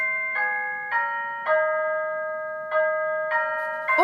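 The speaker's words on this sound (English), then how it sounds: "The doorbell! Hang on a minute!" A doorbell chimes several times in a row, clear bell-like tones ringing and decaying, fairly close, with a brief rustle at the end.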